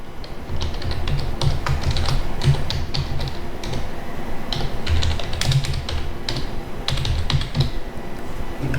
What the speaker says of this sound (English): Here you can type your code.